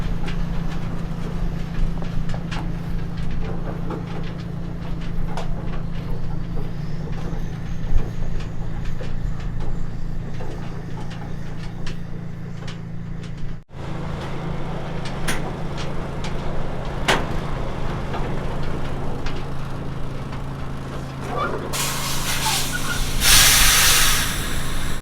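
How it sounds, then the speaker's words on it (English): A Mack truck easing slowly back and forth to close a widened float trailer: a steady low diesel drone with a continuous hiss, a brief drop midway, and a sharper burst of air hissing near the end. "Mackenzie slowly eases the Mack back and forwards to get the narrow version in place"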